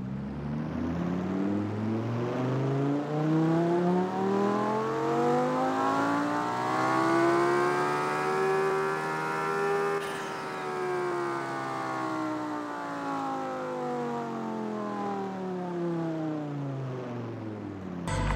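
A McLaren race car in the Apex Racer video game, running without its Cobra DSR engine part, gives one loud continuous engine whine that rises steadily in pitch, shifts once midway and keeps climbing.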